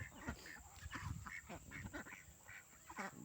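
Aging village ducks quack repeatedly in short, uneven bursts, a cluster of nasal calls close by and fairly quiet, with no talk over them.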